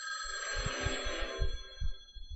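A telephone bell rings in a steady, continuous trill, fairly faint and heard alone without voices.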